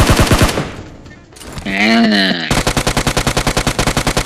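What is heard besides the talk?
gunfire in the video game PUBG Mobile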